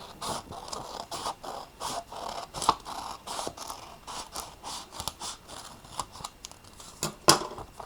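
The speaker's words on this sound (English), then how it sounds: "Then I'm going to take my scissors and I'm going to cut on that line right there." Scissors cut paper along a fold line, producing a rhythmic series of close, crisp snips and scrapes, roughly two per second, with a sharper click near the end.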